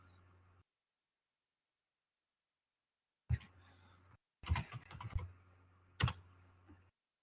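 Computer keyboard typing in short bursts of rapid clicking keystrokes, separated by silent gaps, close and fairly faint with no voices.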